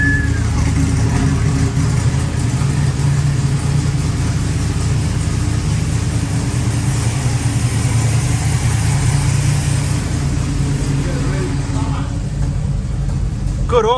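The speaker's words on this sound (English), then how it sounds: "idling pretty good for something that hasn't been started in a few years" A 1969 Chrysler VF Valiant 770, not started for several years, idles steadily and loudly at close range with a constant low rumble, still warming up, while a person speaks over it.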